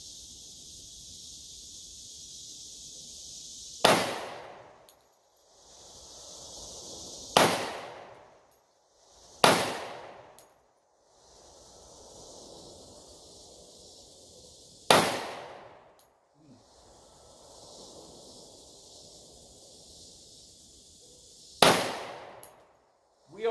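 .45 ACP pistol firing Federal Punch 230 grain ammunition at 7 yards, five sharp, loud shots spaced several seconds apart with quiet gaps between them.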